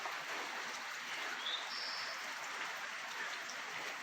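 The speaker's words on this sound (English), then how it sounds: "Yeah, it's raining, baby." Rain falls steadily as a soft, even hiss of drops, faint and continuous, with a brief thin chirp near the middle.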